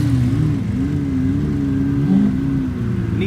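A Nissan GTR engine at an exotic supercar rally and car show, a close, steady mid-pitched drone whose tone rises and dips slightly as the engine revs gently, heard alone without voices.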